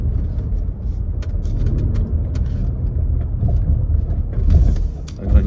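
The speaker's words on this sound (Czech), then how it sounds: "Já tady ještě přejíždím přes štěrk" A car on a test drive rolls over gravel with a continuous low rumble of tyres and chassis, and sharp crunches and pops from stones break in at irregular intervals; no voices are heard.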